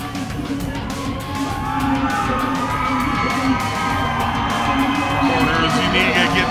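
Boxing fight night crowd cheering and yelling loudly between rounds, a dense roar of shouts and whoops with voices talking over it the whole time.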